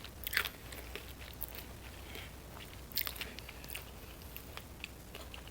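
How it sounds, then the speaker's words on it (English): Faint, close crunches come as a pan-fried green tomato is bitten and chewed, with two sharper bites standing out among softer chewing. "I don't know if you can hear the crunch."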